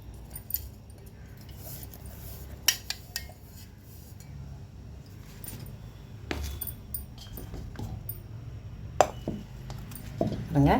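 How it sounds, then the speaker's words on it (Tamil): Metal utensils clink and scrape against dishes as cooked ragi is moved from one pan into another, with several sharp taps over a low kitchen hum. "இது அப்படியே வேறு பாத்திரத்தில் மாற்றிக்கலாம்"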